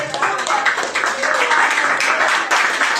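A church congregation claps along during worship, a steady dense clatter of many hands filling the room for the whole stretch with no pauses.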